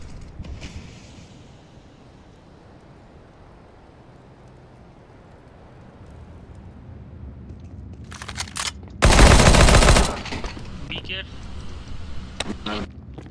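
Gunfire in Counter-Strike: Global Offensive during a competitive match, a loud dense burst of shots standing out after a stretch of quiet game ambience, followed by a few scattered sharp reports.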